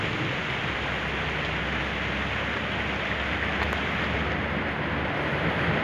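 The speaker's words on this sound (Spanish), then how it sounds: "Se soltó más fuerte la lluvia." Heavy rain falling outdoors on the Cumbres de Maltrata roadside, a constant, close, broadband roar of drops pelting surfaces with no voices over it.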